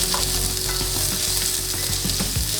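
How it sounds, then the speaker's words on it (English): Two medium onions caramelizing in olive oil in a hot pan, a steady, fairly loud sizzle and frying crackle throughout, with faint stirring scrapes and no talking. "Now we're gonna caramelize the onion,"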